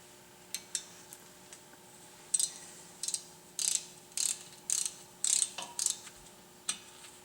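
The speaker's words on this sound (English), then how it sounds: "Now we're going to remove the rotor retaining fastener that holds it to the hub." Ratchet wrench backing out the rotor retaining fastener on a GMC Yukon Denali hub, heard as a string of short, crisp clicking bursts in quick irregular runs, close up and fairly quiet over a faint steady hum.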